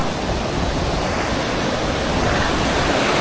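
Continuous rushing surf, a broad steady roar of ocean waves with wind noise, no voices.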